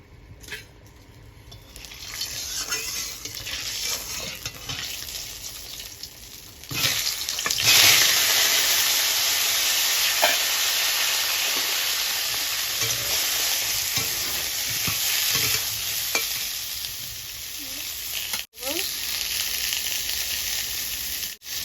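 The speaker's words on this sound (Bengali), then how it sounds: "এখন আমি বেগুনটা ভেজে নেব।" Eggplant slices fry in a pan with a loud, steady sizzle that swells midway and keeps crackling evenly, with a few clinks from stirring and no talk.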